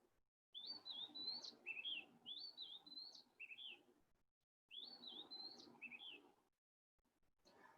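Recorded Oriental magpie robin song played back: clear, whistled, warbling phrases in two bursts separated by a short silence, with faint background noise.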